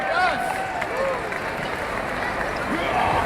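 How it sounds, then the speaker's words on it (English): An audience at a science fair claps for a prize winner, a steady patter of applause under crowd murmur, with a few whistles or squeaky calls on top. "Let's clap it up for her."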